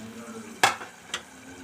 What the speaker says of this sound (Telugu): ఈ మరిగే దానిని ఇలా కలుపుకొని